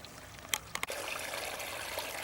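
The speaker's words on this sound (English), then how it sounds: "we have a little running stream" A small seasonal woodland stream runs in a Wisconsin state natural area near the Dells, a soft continuous trickle and gurgle with a couple of brief sharp knocks near the start.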